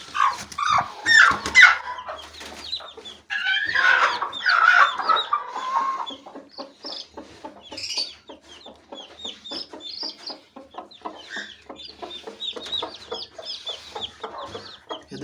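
A brown hen clucks repeatedly at close range, with soft peeps from her four newly hatched chicks scattered throughout, no talking.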